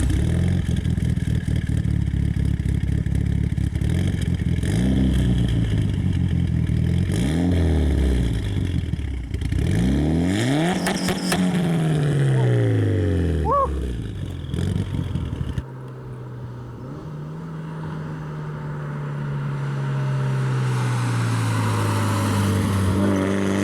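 A Mitsubishi Lancer Evolution VIII engine revs repeatedly, climbing and falling in pitch through several sharp throttle blips, then settles into a lower steady idle that slowly rises toward the end, loud and close with no talking.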